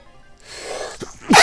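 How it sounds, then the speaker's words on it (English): A single sharp sneeze bursts out at the end after a brief rising intake of breath, close and loud against a quiet background. "I feel like I'm going to sneeze again"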